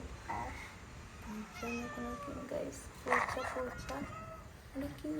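A cat meows several times, short and fairly quiet, against low background noise with faint voices.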